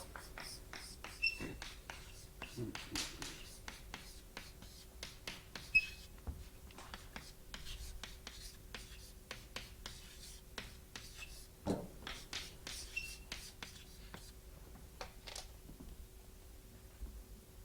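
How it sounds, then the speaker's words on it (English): Chalk writing on a blackboard in a lecture hall, with many quick taps and scratchy strokes in an uneven rhythm, close and soft over a faint steady hum. "I just write it on the blackboard"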